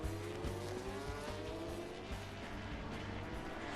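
A Grand Prix racing motorcycle brakes hard into turn 12. Its engine note drops with a strained, continuous roar, carried over loud broadband track noise.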